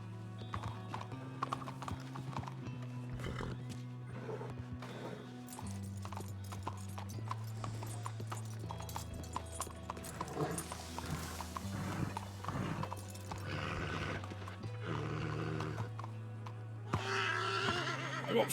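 Horse hooves clip-clop steadily with a neigh in Red Dead Redemption 2, the footfalls close and continuous over game music.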